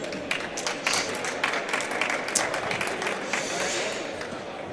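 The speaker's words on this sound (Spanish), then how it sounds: "un aplauso muy grande" An audience at a responsible-consumption conference session breaks into sustained, dense applause from many hands, with a voice speaking over it.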